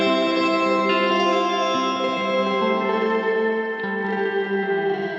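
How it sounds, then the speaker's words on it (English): Shimmer reverb from a Strymon NightSky pedal, a sustained wash of layered, octave-rich tones that swells and shifts slowly, loud and alone. "that actually sounds more to me like a normal shimmer reverb"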